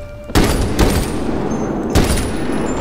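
Loud gunfire bursts during a room breach in the shooter video game Medal of Honor Warfighter, two sharp volleys over a dense, continuous roar of game combat noise.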